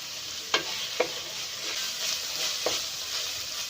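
Noodles and cabbage fry on high flame, a steady bright sizzle broken by three sharp clicks of a spatula or ladle against the pan.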